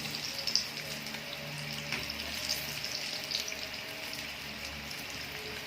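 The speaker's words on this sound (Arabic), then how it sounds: "سامعين بيخربش اهو بيخرفش" Cauliflower florets frying in hot oil in a pan, a steady close crackling sizzle with scattered sharp pops and no talk over it.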